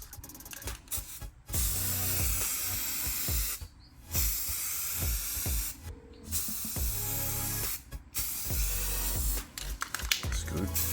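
Aerosol spray paint hisses onto eBay aftermarket headlights for a BMW 335i in a series of close bursts, several seconds each, separated by brief pauses.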